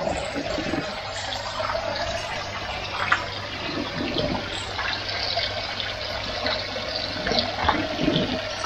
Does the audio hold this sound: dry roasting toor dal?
no